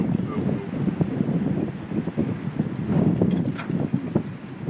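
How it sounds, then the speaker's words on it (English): Strong, gusting wind buffets a microphone outdoors during damp, high-wind fire building, producing a steady low roar with uneven surges throughout. "the wind here is ridiculous today"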